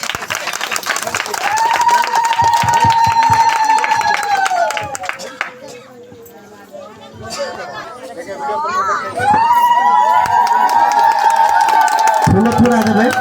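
Crowd clapping and cheering at a village gathering, loud and sustained for several seconds, dipping briefly then swelling again, mixed with chatter, shouts and a voice speaking over it.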